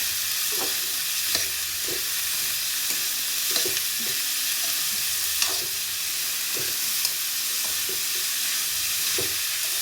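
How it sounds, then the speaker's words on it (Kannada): Ridge gourd stir-fry sizzling in hot oil while a spatula stirs and scrapes the pan in steady, repeated strokes, with a constant frying hiss underneath and no talking. "ಈ ಥರ ಚೆನ್ನಾಗಿ ಮಿಕ್ಸ್ ಮಾಡ್ಕೊಳ್ಳಿ."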